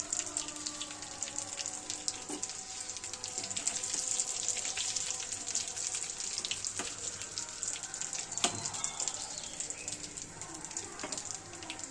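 Bread slices dipped in gram-flour batter fry in hot oil, giving a steady, fine crackling sizzle throughout with occasional louder pops and clinks nearby.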